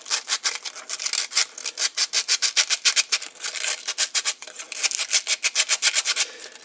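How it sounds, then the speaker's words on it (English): Sandpaper at 220 grit rubbed by hand along a cut metal edge of a homemade Leslie RS speaker diffuser ring, deburring it in quick, even back-and-forth strokes, close and fairly loud with no talking. "Just a quick sanding with some 220 paper, get the burrs and stuff off of there"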